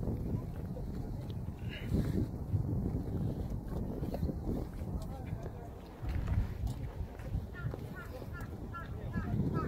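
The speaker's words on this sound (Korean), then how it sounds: "바람소리" Steady wind rushes and buffets across the microphone outdoors on a mountain trail, a continuous low roar with a few faint knocks and rustles.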